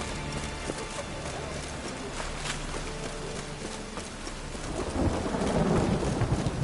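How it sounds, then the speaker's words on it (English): A video game thunderstorm with steady, loud rain rushes close by, while low thunder rumbles and swells near the end. "A storm, damn it."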